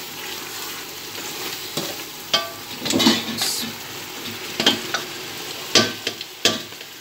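Rice cooking in sugar in a pan gives a soft background sizzle, broken by sharp scraping and clinking hits as a spoon stirs it at irregular intervals.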